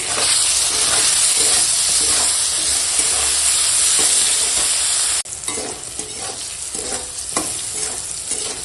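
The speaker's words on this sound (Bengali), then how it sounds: "দিয়ে আগে বেগুনটা একটু রান্না করে নিই" Eggplant cooking in a pan with turmeric, chili powder and salt, a steady loud sizzle with scraping stirs throughout, briefly dropping quieter partway then continuing with lighter frying and occasional spatula strokes.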